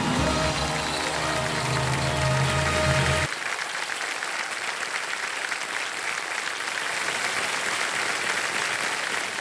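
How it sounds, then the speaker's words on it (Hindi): A KBC Season 17 studio audience gives loud, sustained applause, with music and a broadband clapping wash swelling together before the music drops out and steady clapping carries on alone. "लोगों ने खड़े होकर के ताली बजाए आपके लिए।"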